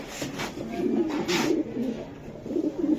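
A racing pigeon coos in low, repeated throaty rolls for about three seconds, close by with steady background noise and no speech.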